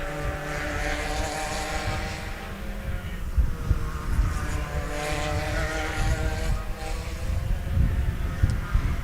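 A pack of race cars at Sebring passing on the track, a continuous loud roar of several engines droning and rising as they stream by at a distance, with no talk.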